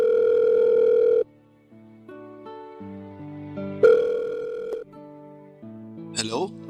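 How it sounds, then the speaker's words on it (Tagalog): A telephone ringback tone plays on a call waiting to be answered, a steady tone followed by a run of stepped electronic beeps, loud and clear with no talk over it. "Tagal naman sagutin yung tawag ko."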